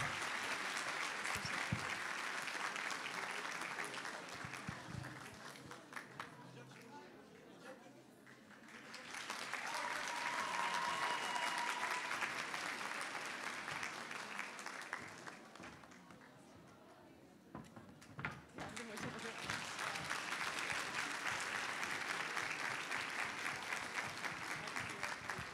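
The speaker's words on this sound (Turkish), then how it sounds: "Alkışlarla uğurluyoruz." Audience at a university fashion show claps in waves: sustained applause, a dip, a renewed burst, then another swell, with occasional thumps and a few voices underneath, fairly distant and steady.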